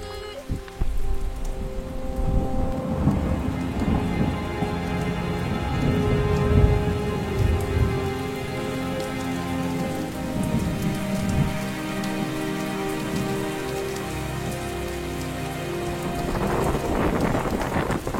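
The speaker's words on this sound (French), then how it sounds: "il commence à pleuvoir, l'orage arrive" Heavy rain patters steadily on a surface close by during a rainy-season thunderstorm in Africa, with low rumbles of thunder rolling underneath throughout.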